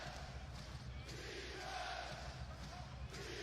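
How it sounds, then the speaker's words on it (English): Dense, roaring crowd noise fills a packed basketball arena during an NBA playoff game between the Minnesota Timberwolves and Memphis Grizzlies, holding steady and loud for the whole stretch, with a faint voice mixed into the din. "Every shot, every play, this crowd is standing up and going crazy."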